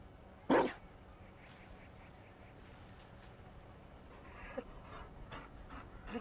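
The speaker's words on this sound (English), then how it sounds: "You found a dog." A Mabari war dog panting in the fantasy role-playing game Dragon Age: Inquisition, with a short louder huff near the start followed by quiet, rhythmic breathing against soft game ambience.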